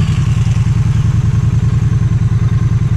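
A 2019 Triumph Street Twin motorcycle engine runs with a loud, steady, rhythmic pulsing idle close by, no voices over it.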